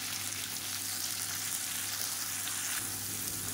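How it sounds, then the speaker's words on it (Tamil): Tomatoes and onions with tamarind and salt fry in a pan for kara chutney, making a steady, close sizzle that runs continuously without pause. "இப்போ பாருங்கள், தக்காளி வெங்காயம் எல்லாமே நல்லா வதங்கிடுச்சு."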